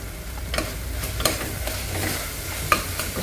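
Homemade bhaji being stirred in a pan with turmeric, homemade red chilli powder, coriander-cumin powder and garam masala, giving a soft, steady sizzle broken by a few sharp spoon scrapes and taps against the pan.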